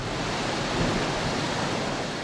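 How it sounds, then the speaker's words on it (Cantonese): Big waves pound the shore in Hong Kong during Typhoon Mangkhut, a dense, continuous roar of surf and wind that stays loud and unbroken throughout. "大浪越拍越高"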